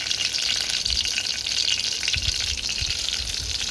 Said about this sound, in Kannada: ಇವು ಮೆಣಸಿನ್ಕಾಯಿ ಎಣ್ಣೆ ಒಳಗೆ ಬೇಯಬೇಕು ರೀ